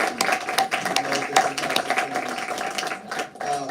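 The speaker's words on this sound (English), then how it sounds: "Let's give him one more round of applause for his work, his sacrifice." An audience at an MLK Day evening event claps in a dense, steady round of applause, many hands patting irregularly at close range for several seconds.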